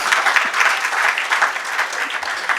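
An audience at a seminar's inaugural function in a Lonavala hotel hall breaks into sustained applause, a steady, moderately loud wash of many hands clapping.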